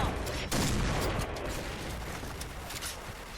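Shotgun fire rings out in a PointBlank-style shooter video game, with a sharp loud blast near the start and dense, noisy gunfire continuing close by.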